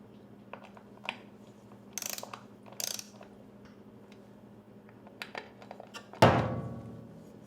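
Bolts on a custom Harley primary derby inspection cover are snugged in a star pattern with a ratchet, giving short bursts of close pawl clicking, then a heavier metallic clunk near the end.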